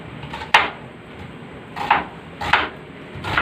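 A knife chopping onions on a board in a home kitchen, four or five sharp separate knocks at irregular intervals, close and clear, with no talking.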